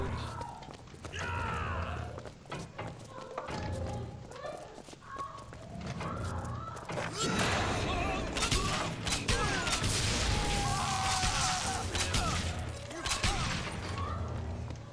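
A volley cannon fires in the video game BioShock Infinite, producing dense, continuous booms and clattering explosive bursts throughout, with a voice talking over the gunfire.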